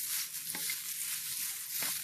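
Dried marigold flowers are dry-roasted in a pan for flower tea, giving a steady soft crackle and sizzle with a couple of faint stirring scrapes.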